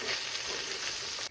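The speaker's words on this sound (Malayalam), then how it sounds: "ഇവിടെ നമ്മുടെ കരള് ഫ്രൈ ആണ്." Liver frying in a pan gives a brief, dense, hissing sizzle, steady and close, cutting off abruptly near the end with no talk.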